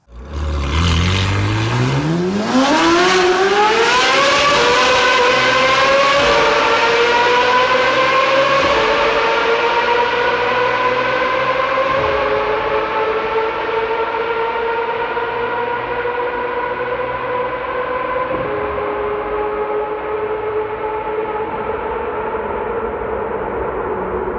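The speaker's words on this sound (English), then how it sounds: "this is how it compares to a 458 V8" A high-revving Ferrari 458 V8 engine roars as it accelerates, pitch climbing steeply then holding a loud, sustained wail as the car speeds away.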